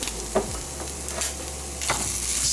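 Food being stirred and swished around a hot frying pan for a vegan breakfast, with a soft steady sizzle and a few scraping strokes of a utensil, close and alone without talk.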